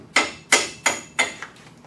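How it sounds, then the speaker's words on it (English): A wrench swung as a hammer on the front suspension of a Toyota Camry after a demolition derby: five sharp metallic strikes in a steady rhythm, close and loud, the last one softer, with no talk. "Maybe get a hammer, Zach, instead of using a wrench as a hammer."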